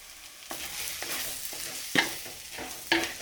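Sautéed onions being stirred in a pan as coriander powder is added for a beef curry, with a soft sizzle broken by repeated spatula scrapes and two sharper metallic clinks near the end.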